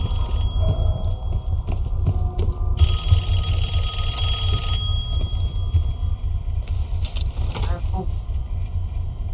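Telephone ringing in Call of Duty: Black Ops 6, a repeated bell-like ring over a low rumbling game ambience, with a voice speaking nearby.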